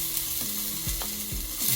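Ginger and onion sizzling in a very hot pot, a steady bright hiss with repeated scraping stir strokes at an even rhythm, close and loud with no talking.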